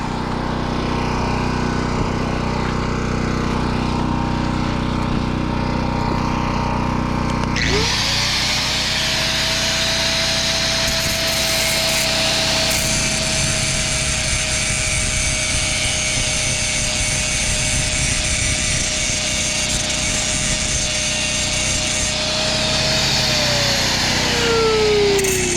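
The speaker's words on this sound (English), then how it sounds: "what we're going to do is we're going to grind that" An angle grinder works metal on a mobile welding job, a loud sustained high whine that cuts in abruptly, holds steadily for most of the stretch, then winds down near the end, with no talk.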